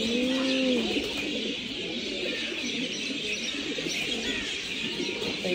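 Medina pigeons coo in low, repeated throaty calls at a zoo in Oman, mixed with faint chirps from other birds over a steady background hum.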